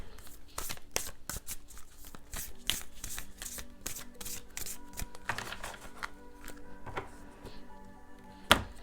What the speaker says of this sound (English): let me pull from more cards